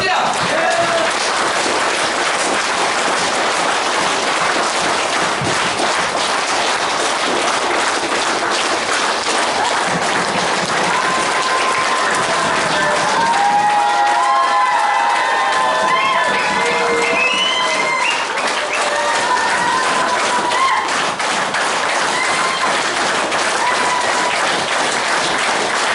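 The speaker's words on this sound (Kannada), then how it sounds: "5 ಸೆಕೆಂಡ್ ಅಲ್ಲಿ ನಿಮಗೆ ಎಷ್ಟು ಜೋರ ಚಪ್ಪಾಳೆ ಕೊಡಬೇಕು ಕೊಡ್ಬೋದು." An audience at a training session claps loudly and continuously for a long stretch, with cheering and shouts mixed into the dense, sustained applause.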